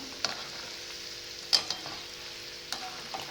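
Gulab jamun deep-frying in medium-hot oil, a faint steady bubbling hiss with a few soft sharp clicks and pops standing out at intervals, no voices.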